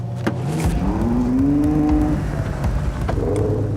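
The 6.5-litre, 789-horsepower front-engine V12 of a Ferrari 812 Superfast revs hard and close, its pitch climbing in a loud, rising howl before dropping back and building again.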